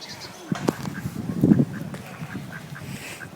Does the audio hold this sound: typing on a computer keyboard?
no